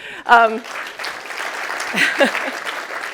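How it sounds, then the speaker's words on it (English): An audience at a technology forum keynote breaks into applause, a moderate, continuous patter of clapping that builds after a brief spoken moment and carries on with a voice cutting through it midway. "let's give him a big round of applause."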